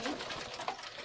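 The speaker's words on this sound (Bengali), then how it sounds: "একসাথে এত টেরি আর পাকিস্তানি পায়রা" Teri and Pakistani pigeons, a flock of flying pigeons kept together at a home loft, coo softly in a brief, low murmur against a busy, noisy background.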